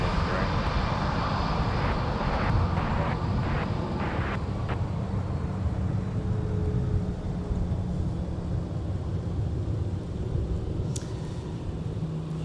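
A Delta airliner bound for Orlando takes off at MSP airport, a loud, sustained jet roar with wind buffeting the microphone and a voice talking over it.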